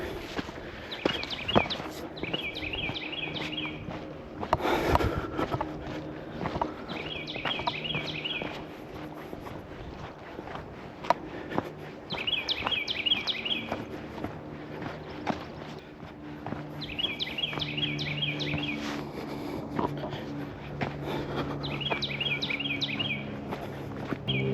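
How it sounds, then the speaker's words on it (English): Birds sing in short repeated trilling phrases at a moderate distance in a pine forest at Bastrop State Park, Texas, with footsteps crunching along a hiking path and occasional clopping steps underneath. "I love hearing the birds."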